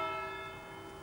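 Cathedral bells tolling at Peterborough Cathedral as a tribute, one sustained ringing tone with steady overtones slowly decaying, fairly faint and heard alone.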